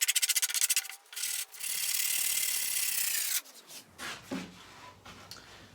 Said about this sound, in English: I'm going to give this a little bit of a sand just to get rid of the burrs and the splinters that are kicked up